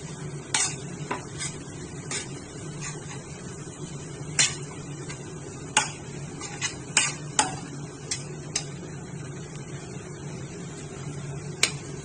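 A spoon mixes chopped coriander through masala egg curry in a pan, with scattered faint clicks and taps against the metal over a constant soft sizzling hiss, close by and unhurried.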